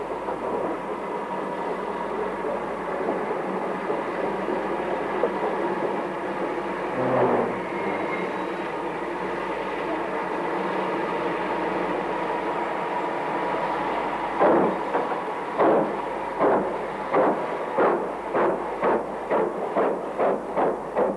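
An LMS steam locomotive train runs along the line, a steady rumbling roll with regular clickety-clack beats from the wheels growing more distinct toward the end, fairly close and continuous.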